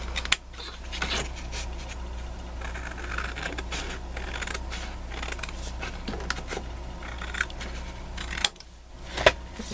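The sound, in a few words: cutting recycled card for a Christmas card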